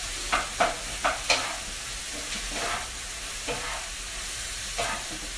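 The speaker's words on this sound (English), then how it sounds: "I'm gonna give a little toss here to the onions and the mushrooms" Onions and mushrooms sizzle steadily in a hot pan while a quick run of four tossing scrapes sounds close, followed by a few looser stirs spaced apart.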